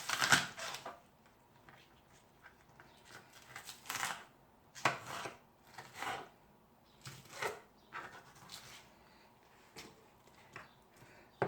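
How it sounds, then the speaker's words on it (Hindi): A knife on a board cuts a peeled vegetable with trimmed ends into long strips for chicken chow mein, in close irregular bursts of tapping chops with short pauses between. "लंबा लंबा ही काटूँगी"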